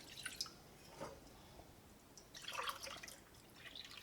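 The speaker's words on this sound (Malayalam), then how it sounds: "2 ഗ്ലാസ് വെള്ളം ചേർക്കാം." Water poured from a glass into a cooking pot, a couple of short splashing pours with faint dripping in between, quiet and close, no speech.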